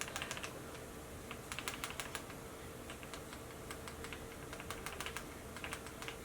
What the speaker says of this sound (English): This brush makes the most funniest noise because I think the head is little loose or something.